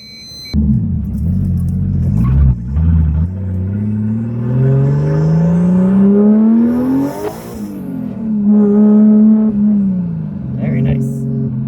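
A modified drift car engine starts up and pulls away, its loud close rumble rising in pitch through revving acceleration, dropping at a gear change and climbing again.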